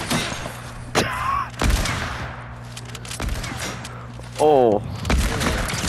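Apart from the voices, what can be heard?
gunfire from sniper rifle in a video game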